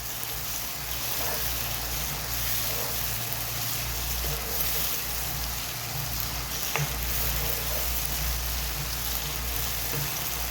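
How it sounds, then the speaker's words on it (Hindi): Green chillies sizzle and fry in hot oil over a high flame while aubergine bharta is cooked, giving a steady, loud crackling hiss that stays constant and close with no talking. "फ्लेम अभी बिल्कुल तेज़ ही है हमारी। सब्ज़ मिर्च मैं इसके अंदर ऐड कर दूँगी।"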